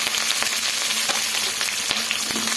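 Curry leaves and green chillies frying in hot oil for coconut rice, a steady close crackling sizzle with sharp pops and the occasional scrape of stirring, no voices.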